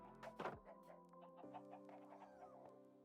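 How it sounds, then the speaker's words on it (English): Chickens in the video game Minecraft cluck in short, nasal bursts, several calls overlapping, fairly close but soft. "And I just realized I could get me some chickens."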